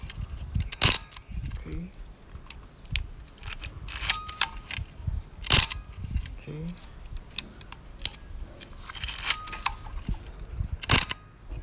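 A Praktica Nova ER film camera shutter fires several times in a row, each a sharp mechanical click separated by pauses, close and distinct, with a person briefly speaking in between.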